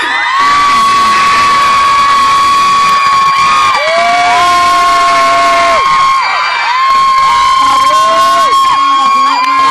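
A large crowd screams and cheers loudly and continuously, with high-pitched shrieks and whoops rising over the roar.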